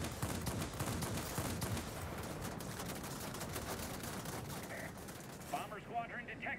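Ground-attack aircraft firing their guns in a video game, a faint, distant rattle of rapid bursts running steadily under someone talking.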